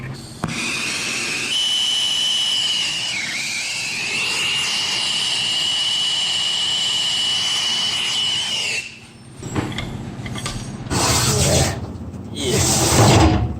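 A torch roars steadily while brazing a 3/8 inch copper refrigerant line pushed into a 1/2 inch line during a reach-in cooler compressor install. A thin whistle rides the hiss for about nine seconds, then louder clanks and bursts follow.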